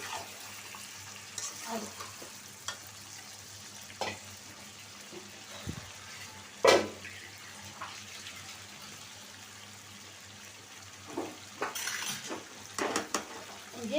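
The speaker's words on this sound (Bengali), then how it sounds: "ভেজে রাখা আলুটাও দিয়ে দিলাম এখন একটু ভালো করে মিশিয়ে নিব" Fried potatoes get stirred into a chicken curry in a pan: a low simmering sizzle runs throughout, broken by scattered scrapes and clinks of the spoon, with a sharp clatter near the middle and a busier burst of stirring toward the end.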